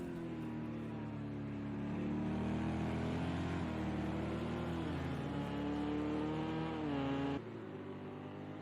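GTE race cars at speed on the Dubai circuit, engines roaring loud and steady with rising and falling revs as the pack runs on hard compound tires, the noise cutting off abruptly near the end.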